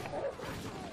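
Guard dog in a shooter video game giving a brief bark or yip, short and mid-distance against a busy game background.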